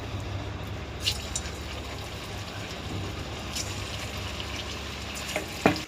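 Chicken pakora coated in gram flour and egg frying in hot oil, giving a steady soft sizzle and bubbling, with a few sharper stirring clinks and spikes near the end.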